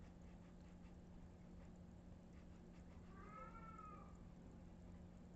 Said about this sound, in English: Yeah, that's our old cat. She meows a lot.